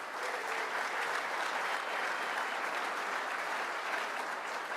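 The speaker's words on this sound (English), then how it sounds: "Our award winners, how about a round of applause for them?" A room full of guests applauds award winners at a college basketball awards dinner in the Missouri Athletic Club's Missouri room, a steady, dense wash of clapping that holds evenly from start to finish.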